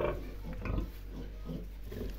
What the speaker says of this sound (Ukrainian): Дивіться, які поросятка.